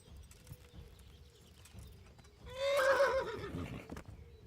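A horse in Kingdom Come: Deliverance lets out a single whinny mid-clip, loud and close, over quiet ambient game sound with faint hoofstep-like thuds.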